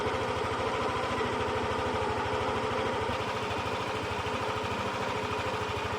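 A Yamaha NMAX125 scooter engine idles steadily during coolant replacement and air bleeding, with a close, even, low pulsing throb and no break throughout.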